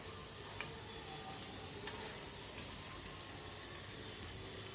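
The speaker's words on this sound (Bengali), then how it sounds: "আলুগুলোকে লাল লাল করে আমি ভেজে নিচ্ছি" Potatoes fry in hot oil with a steady, dense sizzle that runs the whole time, broken by a couple of faint clicks of stirring.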